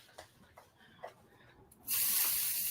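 Water flicked onto a very hot pan while preparing gluten-free pancakes bursts into a loud, sustained hiss after a few faint clicks and taps, sizzling steadily to the end.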